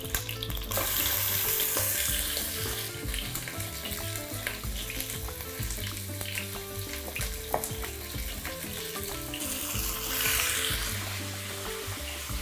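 Fatty chunks of beef tenderloin hiss and crackle in a hot pot, a busy, steady sizzle with scattered sharp pops and clinks of stirring, heard close and with no talking.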